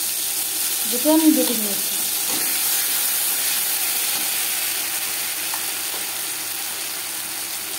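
Ground taro leaves frying with black cumin in a pan give off a steady, even sizzle that hisses continuously throughout. A voice speaks briefly over it near the start.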